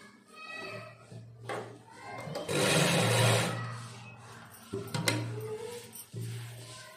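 A sewing machine stitches a strip onto a sari in bursts of steady mechanical whirring, close by, broken by brief pauses and small handling clicks.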